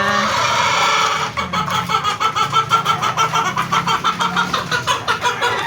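White Kelso gamefowl chickens clucking during backyard feeding time, a rapid run of close, rhythmic clucks following a short stretch of steady background noise.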